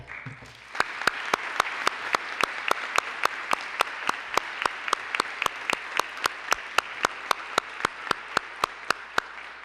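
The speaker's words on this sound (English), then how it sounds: "You deserve a tremendous round of applause." Audience applause at a city hall graduation and recognition ceremony in Peabody: a steady, sustained round of clapping with sharp individual claps standing out in a regular rhythm, moderately loud and continuous, with no talking.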